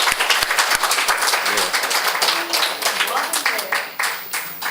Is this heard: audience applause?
yes